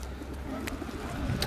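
Pigeons being fed bread outdoors, soft low cooing faintly under a constant ambient hum, with a brief brighter chirp near the end.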